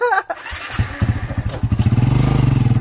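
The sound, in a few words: motorcycle engine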